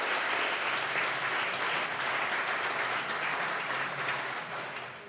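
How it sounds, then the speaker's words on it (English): Wedding guests give a sustained round of applause for the bar and kitchen staff, the dense clapping filling the room evenly before thinning slightly at the close. "can we have a round of applause for them as well"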